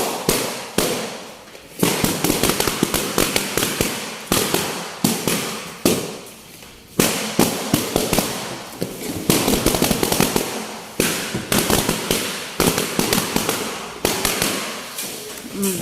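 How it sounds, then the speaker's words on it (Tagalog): Balloons at a party are popped one after another in a rapid, irregular series of sharp, loud bangs at close range, spread across the whole stretch with brief pauses between clusters. "ang dami-dami ko pang papuputukin na balloons"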